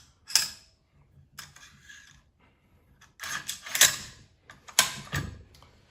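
AR-15 upper receiver parts being fitted back together, a series of close metallic clicks, slides and scrapes in short bursts separated by quiet gaps, with no talking.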